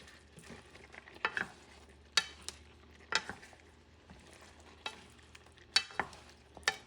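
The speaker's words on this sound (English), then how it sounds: "I want to mix everything up." A spoon stirs pumpkin and pork stew ingredients in a pot, making a few sharp clinks and scrapes against the pot at irregular intervals over a quiet sizzle, close by.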